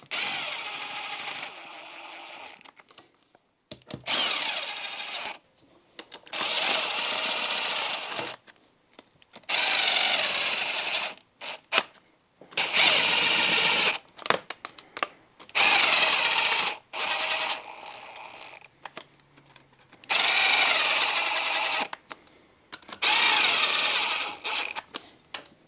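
A power drill drives bolts home on an old Yamaha Warrior 350 that sat unused for a year, running in about seven close, loud bursts of a few seconds each, separated by short pauses, with no talk.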